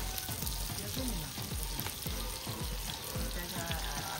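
Chicken and onions frying in a pan give a steady, close sizzle with soft crackles and occasional stirring scrapes, continuous throughout without talk.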